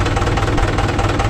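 A Mahindra tractor diesel engine idles close by, a steady low rumble with an even knocking pulse throughout and no talk over it.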